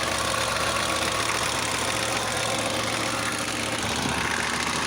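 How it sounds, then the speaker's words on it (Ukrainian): Steady, rumbling BMW E34 M51 turbodiesel engine idling close by, overheating, constant and loud throughout with a rough, knocking texture and no speech. "Ось так працює мотор."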